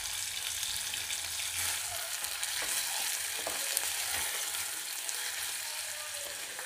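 Thinly sliced onions frying in oil with spices in a pan for masala pulao, a steady close sizzle with occasional clicks and scrapes of stirring, no voices.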